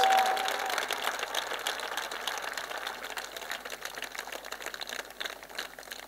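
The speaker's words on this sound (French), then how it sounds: "Clap loudly for Jesus." A church congregation at an evangelical salvation and healing weekend in Anyama claps loudly, a steady dense wash of hand claps filling the room throughout, fairly distant and reverberant with no clear talk.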